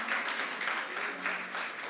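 A congregation applauds at a Hindi-language Christian sermon, steady crowd clapping heard from a moderate distance, continuous and fairly even throughout.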